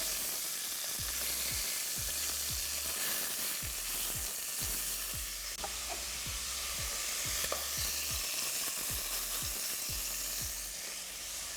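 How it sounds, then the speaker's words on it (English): Chicken pieces for a hotpot browning in a hot pan, a steady broadband sizzle with regular stirring clicks and scrapes throughout, close and continuous, no talking. "Now while those last few pieces are browning, I'll add my bacon."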